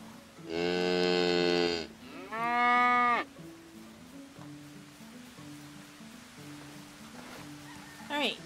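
Cows moo in the farming game Medieval Dynasty, two long loud bellows close together, then quieter game music, with a brief honk-like call at the end.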